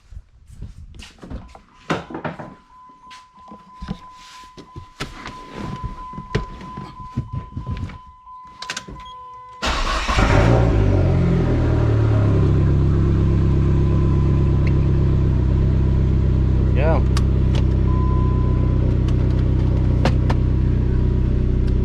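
Some clattering and handling noises, then a Mercedes SRT-4 engine cranks and catches, settling into a loud, steady idle that keeps running.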